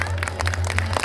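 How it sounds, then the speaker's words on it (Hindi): An audience claps loudly at an outdoor village Ramlila performance, a brief burst of dense, steady applause close by, with a constant low hum underneath. "तालियां जोरदार।"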